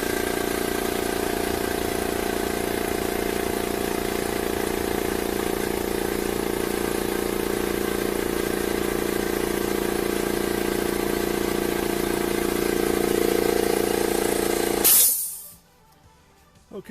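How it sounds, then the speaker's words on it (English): Air compressor running close by, a loud continuous droning hum with hiss that holds steady, then cuts off abruptly near the end into near silence. "let's turn the compressor on and see what the thing sounds like."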